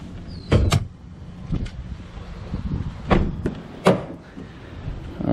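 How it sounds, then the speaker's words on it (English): Hood of a 2018 GMC Sierra 6.2L being popped open, heard as a few sharp latch clunks and thumps at close range, separated by handling noise and quieter pauses. "First thing first is to pop the hood."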